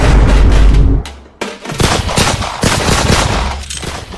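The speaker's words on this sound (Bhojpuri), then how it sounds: "मारो ना गोली सामने बा" Loud bursts of gunfire, rapid cracking shots, drop out briefly, then resume as dense, continuous firing with booming impacts throughout.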